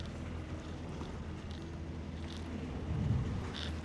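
Twin boat engines rumble low and steady, one in reverse and one forward, while docking in a tight spot, with a brief surge of churning near the end under wind noise.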